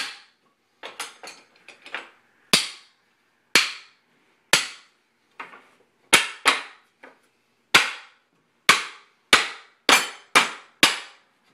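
A fireworks mortar rack is struck to tighten it, giving a series of sharp, loud, close knocks at irregular intervals, roughly a dozen hard hits among smaller taps, with no talking.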